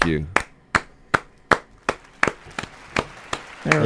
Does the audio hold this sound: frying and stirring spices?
no